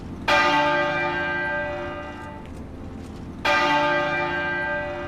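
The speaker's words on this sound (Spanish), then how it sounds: "A su entrada sonaron las campanas de la abadía" Westminster Abbey's church bells ring out as a sovereign's funeral procession arrives, with two loud, resonant strikes a few seconds apart, each leaving a long shimmering decay.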